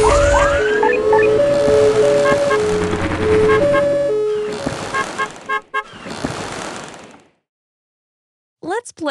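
Cartoonish police car siren effect from a Lingo Kids vehicle-stacking game: a couple of short rising-and-falling wails arrive near the end, after bright, tonal game music and chimes.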